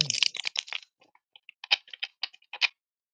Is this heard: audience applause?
no